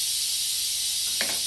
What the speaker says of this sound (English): let the steam release